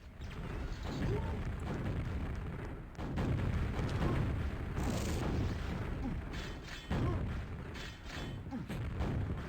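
Rocket explosions in a QuakeWorld duel: continuous low rumbling blasts and booms layered with game mechanisms, steady and dense throughout with a few sharper bursts, no voices.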